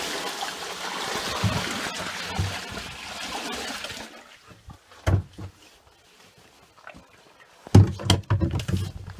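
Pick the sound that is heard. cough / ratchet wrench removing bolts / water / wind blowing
water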